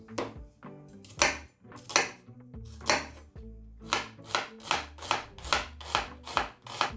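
Rhythmic knife chopping of an onion on a cutting board, sharp close thuds coming irregularly at first, then a quick steady beat, with faint clinks of kitchenware.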